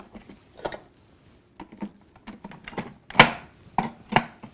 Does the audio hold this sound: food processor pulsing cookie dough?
yes